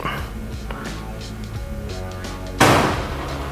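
A heavy door slams shut with a sudden loud bang after a stretch of low, steady background hum, its boom trailing off briefly.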